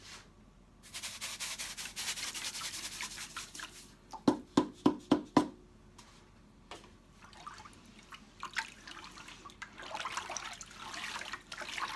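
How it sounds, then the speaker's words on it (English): Hands stirring salt into water for Neapolitan pizza dough, with a run of five quick splashy sloshes in the middle, set among softer rubbing and trickling water sounds close by. "What we're doing is we're mixing the salt with the water first."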